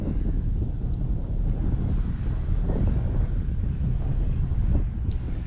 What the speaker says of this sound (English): Man, is it windy.